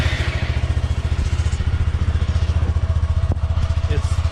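A Honda Grom motorcycle with an AODONLY titanium dual exhaust runs close by, a low, even pulsing idle with regular exhaust thumps and a light clatter throughout.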